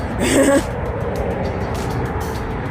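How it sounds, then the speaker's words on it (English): Continuous highway traffic drones nearby with a steady low rumble of passing vehicles, and a brief bit of speech at the start. "I'm a little bit next to the highway"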